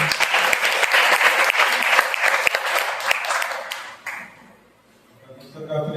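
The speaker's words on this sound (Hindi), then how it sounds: "पवित्र परमेश्वर के लिए एक बार जोरदार तालियां हो जाए।" A church congregation claps loudly together during a Sunday service, a dense sustained wash of applause that fades out toward the end, followed by a faint voice.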